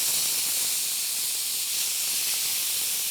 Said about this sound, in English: we want to take this mixture now and put it in the pan. So we want to flavor this a little bit in the olive oil.